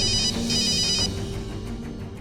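A telephone rings late at night at an office, a repeating electronic bell tone with steady pulses, loud and close, heard alone with no talking.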